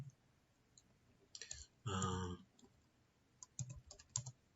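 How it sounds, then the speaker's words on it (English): Quiet clicking of a computer keyboard while typing a title into a Microsoft Access form, in scattered short bursts with one denser flurry of keystrokes, close but faint against a low background hiss. "Then we type our title."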